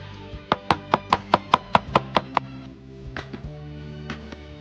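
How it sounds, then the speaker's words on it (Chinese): Fresh ginger sliced with a knife on a cutting board: a fast, even run of about ten sharp, close chops, then a pause and a few slower, softer cuts, with no talking. "再来切点这个生姜片"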